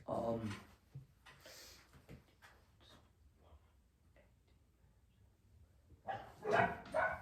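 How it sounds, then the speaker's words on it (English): Dogs bark in a few short bursts, one near the start and another near the end, fairly close and moderately loud, with quiet stretches between and soft talking underneath. "and dogs be barking"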